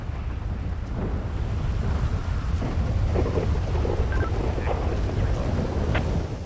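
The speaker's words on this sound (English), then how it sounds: "What a night for it to be raining" Heavy rain falls with rolling thunder on a rainy night in GTA 5, with scattered drops and faint sharper ticks over a constant roar, and no voices.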